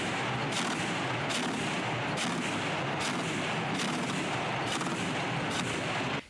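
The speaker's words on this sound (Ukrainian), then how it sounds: "Стріляють короткими чергами, а це означає, що ціль пристріляна і набої калібру 23 мм лягають кучно" Rapid short bursts of heavy 23 mm automatic cannon fire, loud and close, repeating every second or so over a continuous roar of gunfire.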